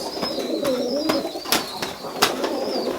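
Tippler pigeons coo in low, throaty repeated phrases close by, punctuated by brief sharp clicks or wing taps.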